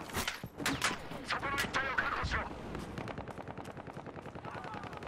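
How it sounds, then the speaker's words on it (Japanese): Rapid gunfire from the Battlefield Hardline video game on a DLC map, a dense stream of automatic shots with a few louder cracks early on, sustained and fairly close throughout. "なんかに撃たれてる。"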